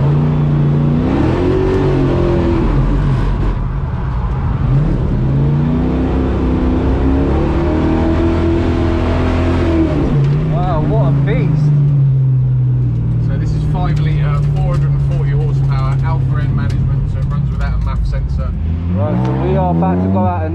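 A Dodge Hellcat's engine revs hard during drifting, with rising and falling throttle blips over a constant loud drone. Tire noise and a voice break in later on.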